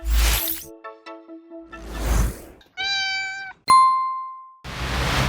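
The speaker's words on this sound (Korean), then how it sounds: "바닷속에서 숨을 오래 참을 수 있는 육지동물이라며 시민들로부터 큰 환호를 받았던 고양이 케니" Cartoon cat from SpongeBob SquarePants meows in a short sequence of loud, close, tonal mews, mixed with whooshes and a bright ding-like effect, with no talking.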